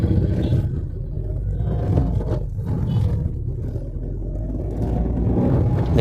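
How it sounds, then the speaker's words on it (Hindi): A car engine revving and pulling away from a standstill in first gear, a steady loud low roar of engine and road rumble throughout with no talk. "देखिए फर्स्ट गियर पे ही गाड़ी को उठाऊंगा मैं।"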